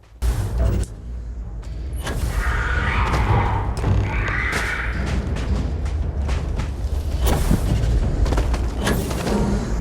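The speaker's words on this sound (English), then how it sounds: "I heard gunshots." Gunfire in the space shooter game Starfield, heavy booming shots and thuds that arrive in scattered bursts over a dense, continuous rumble of combat noise, loud and close.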